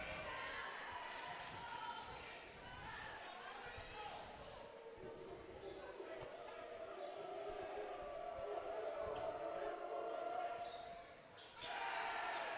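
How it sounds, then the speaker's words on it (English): Crowd noise at a varsity girls' basketball game, a steady distant murmur of spectators with swelling cheers and occasional ball bounces and sneaker sounds on the court. "A little bit of crowd noise there,"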